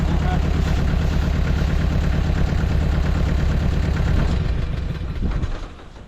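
An Allis-Chalmers diesel tractor with glow plugs runs just after starting, its engine chugging loudly at a steady idle, close to the recorder, before the sound drops away near the end.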